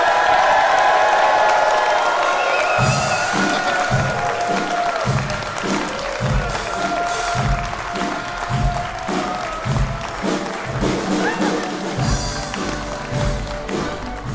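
A church congregation clapping together at a Sunday service, a loud wash of applause that settles into rhythmic, steady beats with a few whoops.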